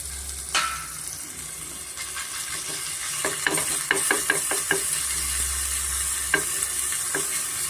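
Green chilli paste frying in a pan, a continuous bright sizzle with a burst of sharp crackles and spatters in the middle, plus the scrape of a spoon stirring.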